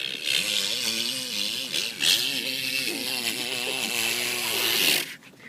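A man imitates a Honda CRF450 supercross motorcycle engine with his mouth, a buzzing, revving drone that rises and falls through shifts and jumps for about five seconds, loud and close, then cuts off.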